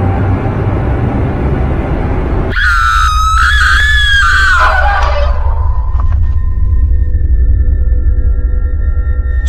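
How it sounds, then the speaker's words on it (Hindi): A loud, shrill scream rings out for a couple of seconds from a cartoon, then trails off against a steady low rumble, with no talking. "बाहर से किसी के चिल्लाने की तो आवाज आ रही है"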